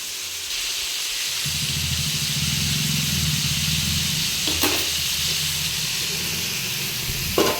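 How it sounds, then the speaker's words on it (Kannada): Chicken pieces frying in butter in a pan give a loud, steady sizzle and hiss that runs without a break from start to finish, with a few faint clinks of a utensil near the end. "ಇದು ಫ್ರೈ ಆಗ್ತಿದೆ. ಈಗ ಮೇಲೆ ಬಟರ್ ಹಾಕ್ತಾಯಿದ್ದೀನಿ."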